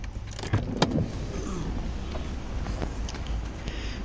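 A car pulls into a parking spot beside a house in Kuwait, its low engine rumble steady and close, with a couple of brief clicks and knocks near the start and wind-like hiss throughout.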